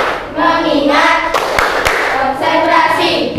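A classroom of students claps hands on command in a quick burst of sharp slaps mid-clip, between stretches of group chanting voices.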